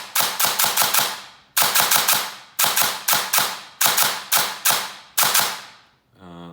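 Bursts of rapid full-auto fire from a T238 gel blaster with a V1.6 MOSFET installed, loud and close, six sharp strings of shots separated by brief pauses, each burst decaying quickly.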